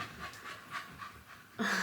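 A tired dog pants in quick, rhythmic breaths close to the microphone, soft and steady, before a louder burst of sound cuts in at the end.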